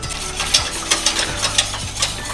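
Mango cheesecake filling mixture is stirred in a pan over medium heat with quick rhythmic scraping strokes and a faint sizzle underneath, close and steady.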